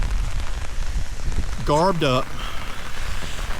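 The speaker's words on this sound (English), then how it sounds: "Pouring down rain" Pouring rain falls on an umbrella as a steady, close patter and hiss, with someone briefly speaking over it midway.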